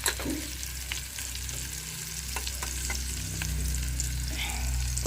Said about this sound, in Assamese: এতিয়া অলপ নহৰু দি এইখিনি অকমান ভাজি লম